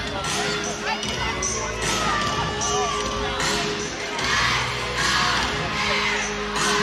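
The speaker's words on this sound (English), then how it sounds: "Cheering her on from the sideline." Gymnastics teammates cheer loudly from the sideline at a college meet, a steady wash of shouting and whooping crowd noise with swells throughout.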